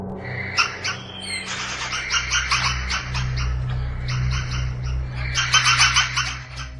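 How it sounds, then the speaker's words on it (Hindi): Dense, overlapping bird calls and squawks ring out from tall trees around an abandoned villa in Bangalore, loud and continuous with no speech. "पक्षियों की डरावनी गूंजती हुई आवाज़ किसी को भी डरा सकती है"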